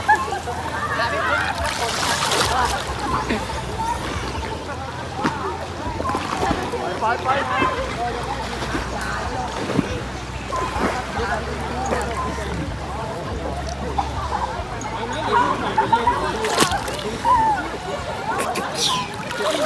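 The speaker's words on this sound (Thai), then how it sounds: "นี่เขาล่องเรือกันอย่างนี้นะเห็นไหม" Rafts and boats run down a fast river at a Kaeng Krachan riverside camp in Phetchaburi, with continuous rushing, splashing water and occasional louder splashes, while people talk nearby.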